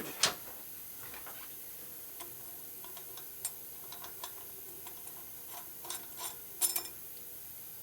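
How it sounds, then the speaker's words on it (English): A wrench clicks and ratchets as a nut is torqued down during a rebuild of a 2001 Indian Scout 88ci big-bore S&S motorcycle engine; sparse mechanical ticks and a few sharper clicks sound close and fairly faint, with no talking. "Torque a nut down."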